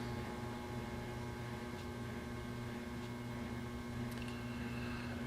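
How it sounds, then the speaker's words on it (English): Steady, faint hiss from a guitar pedal board, a constant broadband noise floor with a low mains-like hum underneath, unchanging throughout with no playing or talk. "my pedal board was emitting some sounds. Kind of a hiss,"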